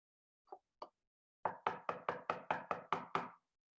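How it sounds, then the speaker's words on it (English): Knocking at a door in a stage play: two tentative single raps, a pause, then a fast run of about eight firm, evenly spaced knocks, close and dry against silence. "A knock at the door."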